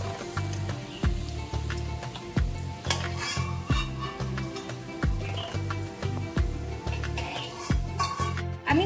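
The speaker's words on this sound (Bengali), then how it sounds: "আমি অন্য পিসগুলোকেও ভেজে নিচ্ছি।" Tofu pieces frying in a pan with oil while being turned, a steady close sizzle broken by repeated scraping and clinking stirring strokes, with no one speaking.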